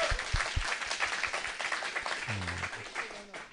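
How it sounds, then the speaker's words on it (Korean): A studio audience at a talk show applauds a guest, a soft, distant patter of clapping with a voice speaking briefly over it. "박수 한번 부탁드려요."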